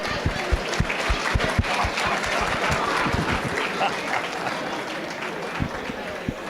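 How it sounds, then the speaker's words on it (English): An audience in a conference room claps and cheers loudly, with scattered individual claps at first that swell into sustained applause. "And give yourselves a big round of applause"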